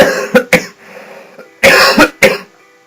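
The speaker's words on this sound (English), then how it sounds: "I just need to cough for some reason." A run of loud, close coughs, a couple of sharp ones, then a longer raspy fit with more coughs trailing off.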